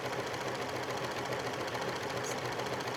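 A sewing machine runs a zigzag stitch along a pillowcase edge, a fast even mechanical whir and tapping held steady for a few seconds, close and moderately quiet.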